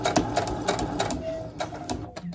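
Hand sashiko stitching through heat-resistant wadding for a coaster: rapid, close, rhythmic little pinging pulls of the needle and thread, repeating steadily at close range with no talk.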